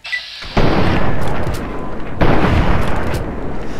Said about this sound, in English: I don't like you shooting at me